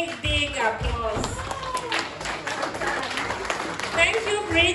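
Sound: party guests applauding

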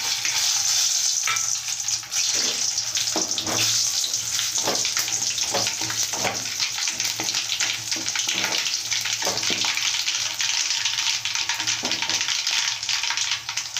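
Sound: dried red chillies frying in oil

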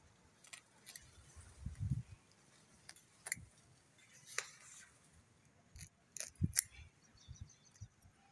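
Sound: cutting aloe vera leaves with scissors

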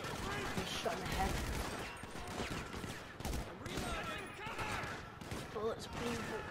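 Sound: gunfire in a video game

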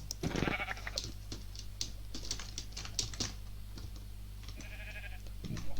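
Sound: sheep bleating in a video game

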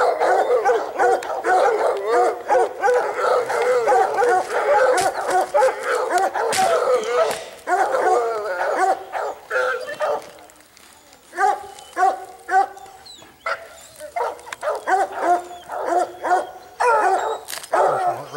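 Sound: hunting dogs barking

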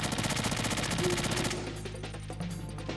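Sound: gunfire in video game Metal Gear Solid 2

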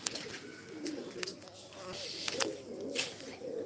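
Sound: pigeon cooing

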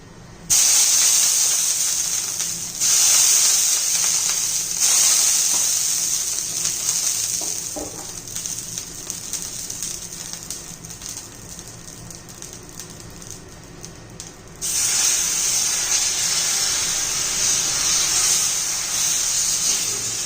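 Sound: water sizzling on a hot griddle while making bajra dosa

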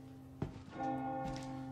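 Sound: bell ringing in video game Resident Evil 4 Remake

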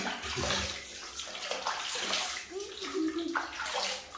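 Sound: water while washing a child's hair in the bath

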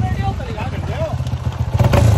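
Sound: motorcycle engine running

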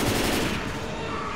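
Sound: gunfire in Left 4 Dead video game

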